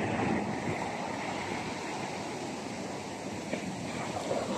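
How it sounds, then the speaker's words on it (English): Ocean surf washes onto the beach at Virginia Beach in the early morning, a steady broadband rush with a faint swell, heard alone with some wind buffeting and no voices. "That's the water."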